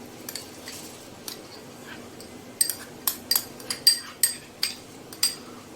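Grains of rice poured into a jug for kheer, a scatter of small bright clinks and ticks against the vessel, a quick run of close taps toward the end, with no talking.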